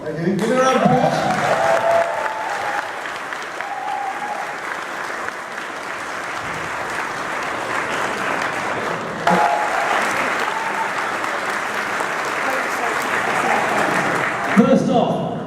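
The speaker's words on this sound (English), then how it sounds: "Give it a round of applause." Audience applause at the AmeCon 2018 anime convention closing ceremony, a sustained loud clapping crowd in a hall lasting throughout, with brief voices and cheers mixed in near the start and end.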